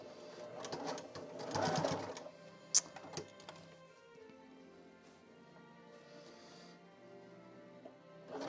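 Sewing machine stitching a plushie, a steady whirring run that is louder at first, then quieter mechanical stitching with a few sharp clicks, close by and fairly soft.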